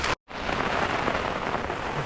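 Steady rain drums on a tent in the New Zealand wilderness at night, a dense, continuous patter close overhead after a brief moment of silence at the start, with no talking.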